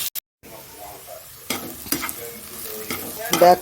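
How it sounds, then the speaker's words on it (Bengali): Fish frying in hot oil until reddish: after a brief clatter and a moment of silence, a close sizzle runs on with a few scraping stirs and a louder burst near the end. "মাছটা একটু লাল করে ভেজে নিই"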